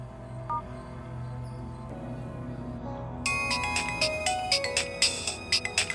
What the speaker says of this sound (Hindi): सर, मेरा फोन आ रहा है